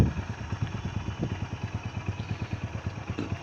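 Hero Splendor motorcycle engine idling slowly, a steady low rhythmic putter of even, regular firing pulses, close and clear with no talking.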